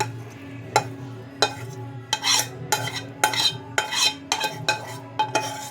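Cooked dhaniya aloo, a coriander potato dish, being scooped from a pan: about ten distinct metal scrapes and clinks of a spoon against the pan at a steady rhythm, close and clear over a low background hum, with no talking.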